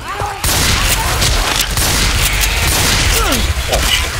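Loud, sustained bursts of automatic gunfire erupt in Left 4 Dead 2's Death Toll campaign, with rapid shots running almost continuously after a brief quiet start. Occasional shouted voices can be heard in the mix.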